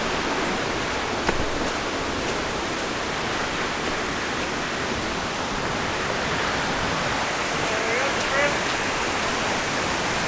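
A large waterfall in North Carolina roars steadily in the rain with dense, unbroken rushing water, loud and close, with rain-like hiss throughout.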